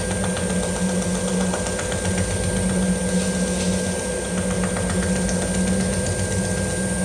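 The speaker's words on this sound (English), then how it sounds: "now what I want to do is I want to rub this fairly hard, generate some heat. That'll melt that wax into the surface" A birch hollow vessel spins on a woodturning lathe while beeswax polish is rubbed hard into its surface, a steady close motor drone with a faint rubbing texture and no pauses.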